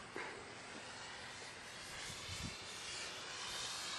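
A Guanli FW 190 model airplane sweeps past on a low pass, its engine a steady, fairly faint whine with a slight swell as it goes by, amid outdoor hiss and no talk.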